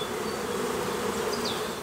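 Honeybees flying in and out at the hive entrance, a dense, continuous buzzing hum close by with occasional individual bees passing.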